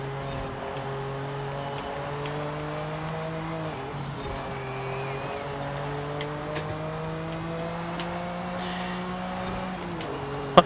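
Steady, droning car engine racing in the video game Forza Horizon 5, holding a sustained high rev with slight pitch shifts and brief gear-change dips, loud and continuous without pause.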